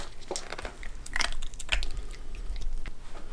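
A four-month-old silver poodle puppy chewing food, close and fairly loud, with irregular crunchy bites and wet munching over several seconds, no talk.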